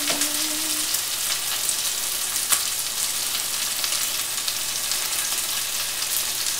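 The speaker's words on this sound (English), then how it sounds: "We're going to do a tablespoon of balsamic vinegar here." Balsamic vinegar going into a pot of simmering homemade marinara sauce, giving a steady, even sizzle and bubbling hiss throughout with no talking.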